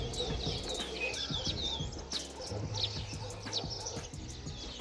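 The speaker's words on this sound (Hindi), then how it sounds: "सुबह सुबह के टाइम पे देखिए मस्त चिड़ियों की चहचहाहट है" Birds chirp and tweet in the early morning in a hillside village, with many small calls scattered over steady background noise. A pigeon-like coo and a brief wing flutter come through too.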